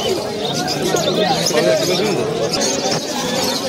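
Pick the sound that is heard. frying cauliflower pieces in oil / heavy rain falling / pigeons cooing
pigeons cooing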